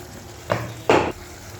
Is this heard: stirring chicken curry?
yes